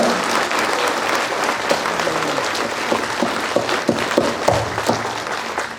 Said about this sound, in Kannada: ಎಲ್ಲರೂ ಕೂಡ ಜೋರಾಗಿ ಚಪ್ಪಾಳೆ ಕಟ್ಟಬೇಕು